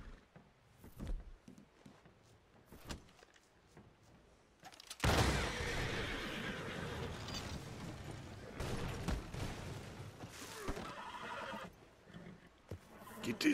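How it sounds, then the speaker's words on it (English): A horse in the road neighs and whinnies loudly up close, with hooves clopping on hard ground amid sharp bursts of noise and a few voices. "Get this horse out of the road!"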